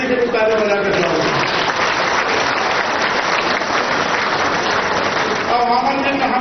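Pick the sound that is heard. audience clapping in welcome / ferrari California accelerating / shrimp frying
audience clapping in welcome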